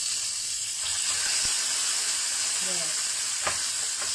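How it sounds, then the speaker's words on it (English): Salmon sears in a hot pan with a steady, close broadband sizzle throughout, a few faint clinks and scrapes, and a brief spoken word. "I'm going to sear here also. So make sure you sear the side also."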